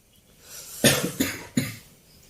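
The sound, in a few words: cough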